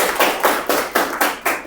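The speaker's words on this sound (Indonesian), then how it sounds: "Good, tepuk tangan." Clapping in a morning classroom discussion, a few hands beating in a steady rhythm of about seven claps, close and fairly loud with no talk over it.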